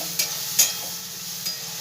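Ground spices fry in a small amount of oil in a pan, giving a steady soft sizzle with a few brief stirring scrapes.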